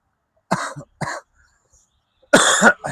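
A person coughs in short bursts: two single coughs spaced apart, a pause, then a harsher, louder cough with throat clearing at the end, close and alone.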